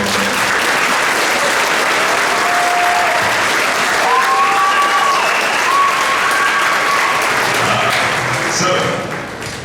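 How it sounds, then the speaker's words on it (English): An audience at a school Christmas concert applauds the 6th grade band, steady and full for nearly ten seconds, with a faint whistle-like tone and crowd murmur mixed in before it tapers at the end. "give them a nice big round of applause"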